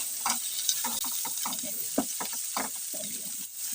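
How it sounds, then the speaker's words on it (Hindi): Chopped tomato softens in a pan for matar paneer, with a soft background sizzle broken by repeated scraping strokes of a spoon stirring, close and moderately quiet. "इसे भी हम सॉफ्ट होने तक टमाटर को अच्छे तरीके से भून लेंगे"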